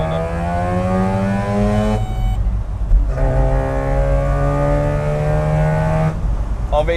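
A Japanese mini truck's small engine revs hard while driving, its pitch climbing through a gear, dropping briefly at a shift, then winding up again loud and close.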